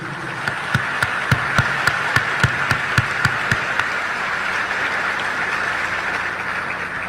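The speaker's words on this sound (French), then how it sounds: "On encourage le monde de bien avec un gros applaudissement solidarité." An audience applauds in solidarity, a steady wash of clapping that carries a run of sharp, evenly spaced claps in unison for a few seconds before settling into a continuous roar.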